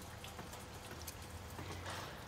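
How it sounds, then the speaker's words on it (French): Light rain with fine drops falls during a cold spell near freezing, a soft, steady hiss of tiny drops pattering on surfaces, faint and continuous with no voices. "les gouttes sont trop fines, la pluie est faible"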